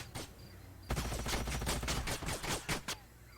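Gunfire from the Age of Wonders: Planetfall strategy game: a dense fusillade of rapid overlapping shots erupts after a quiet start, with bursts of varying loudness that fade near the end.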